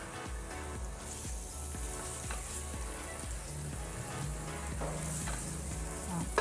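Garlic sizzles in hot oil as it fries for a spicy tofu and mushroom balado, a steady, dense crackling hiss that holds loud and close throughout with no talking.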